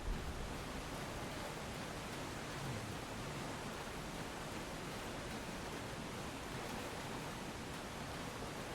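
A waterfall in the video game Elden Ring sends out a steady, even rush of water noise that holds at the same level throughout, with no voices over it.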